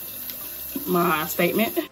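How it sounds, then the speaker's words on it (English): Water runs at a sink as a face is rinsed: a steady, close splashing under a person's speech. "So I'm gonna go ahead and rinse this off"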